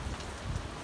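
Steady rain falling outdoors on a hard-working day, a soft, even hiss with low patter throughout, fairly quiet and with no voices.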